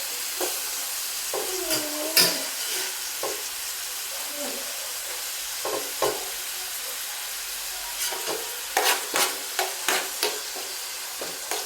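Chopped tomatoes sautéing in a pan with vegetables for pasta, a soft steady sizzle under repeated scraping strokes of a spatula, close by, with a brief faint voice now and then.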